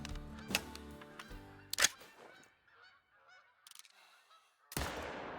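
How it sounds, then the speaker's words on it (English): Snow geese honk in the Call of the Wild hunting video game, with several loud, sharp calls early on, a scatter of quieter honks in the middle, and a final loud burst near the end. "see if we can't find this first snow goose here"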